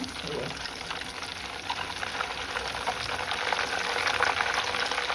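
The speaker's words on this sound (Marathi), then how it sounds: "चांगलं उकळ उसळ्या येत आहे तर पूर्ण थांबलं पाहिजे फटफट होऊन थांबलं ना की आपलं चूक तयार झालं" Homemade cow's ghee simmering in a pot gives a steady, dense bubbling and crackling hiss that builds slightly louder over a few seconds, with no talk over it.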